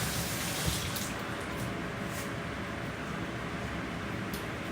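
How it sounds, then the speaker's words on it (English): Water runs steadily from a kitchen tap into a sink as hands are washed with soap, a constant close splashing wash with faint drips and no talking. "With my hand, wash it with soap."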